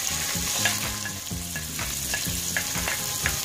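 Onion frying in hot olive oil in a cooking pot, a continuous crackling sizzle with light stirring, steady and fairly close, no talking.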